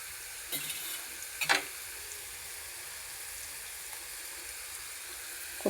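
Onions and green chillies fry in hot oil for a home-style sesame curry, a steady faint sizzle with a couple of brief stirring scrapes, no voices.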